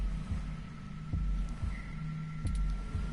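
Steady thumping heartbeat effect in the 2064 video game, double low thuds repeating at a regular pace over a faint electronic hum, close and alone.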